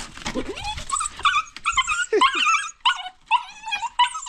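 A puppy at home whimpers and yips in a string of high, nasal cries, close and fairly loud, with short pauses between bursts and no talking.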